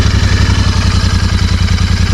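A Royal Enfield Continental GT650 twin engine runs with a steady, loud, throbbing idle pulse close by, a rhythmic low thump with mechanical clatter above it.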